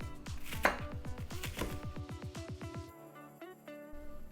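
A knife roughly chops onion on a cutting board in a quick, even run of sharp knocks that stops partway through, followed by a few lighter kitchen clatters.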